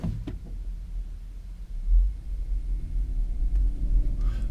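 A VW ID.3 electric car reversing and then pulling away, heard from inside as a low, quiet rumble that swells and surges, with a few faint clicks and no talking.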